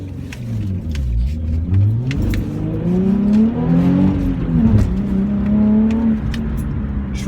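A 2005 Nissan 350Z with a Milltek exhaust accelerates hard. The engine note rises and dips through loud, close revs with a faint tire chirp.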